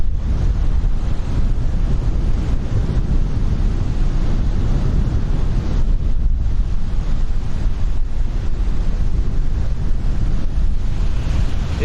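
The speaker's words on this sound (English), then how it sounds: "It is a bit windy, by the way," Strong wind buffeting a microphone fitted with a furry windscreen at Lanzarote Airport in the Canary Islands, a constant loud low rumble and roar that never lets up, with no voices.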